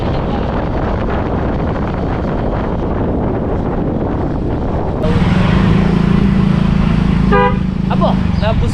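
A car horn honks near the end, a few short bright toots standing out over a loud roar of wind and engine noise, with voices around.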